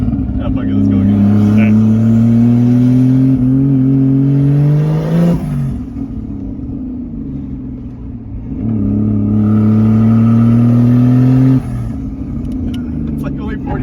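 A 1JZ-powered Lexus IS300 accelerates hard through the gears, its engine note climbing loud and close in two long pulls with a lift between them, heard from inside the car.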